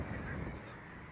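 A large flock of barnacle geese honks in a dense, continuous chorus, soft and distant, with no voices over it.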